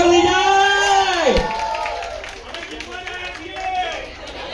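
Wedding guests at a haldi ceremony applauding the winning team in a bride-versus-groom water bottle game: loud clapping and cheering from a crowd, with a host's voice talking over it.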